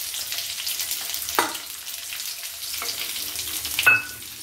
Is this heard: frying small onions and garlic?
yes